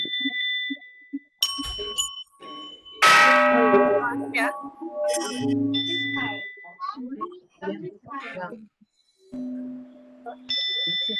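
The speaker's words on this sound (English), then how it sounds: "All right, everybody, you're ringing your bells." Several bells ring and clang with sustained metallic tones, some overlapping, while people talk intermittently around them.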